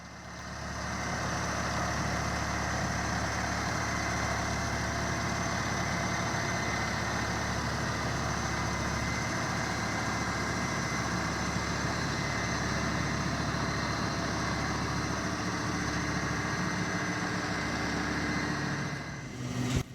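A steady, droning engine hums without pause for the whole stretch, a tractor towing a berry harvester at about 1 mile an hour, mechanical whine layered over the low tone.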